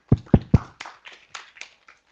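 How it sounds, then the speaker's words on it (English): At a forum session introducing a speaker on security, three sharp, close hand claps ring out, followed by a thinner scatter of lighter claps that fades within about two seconds. "Our applause, please."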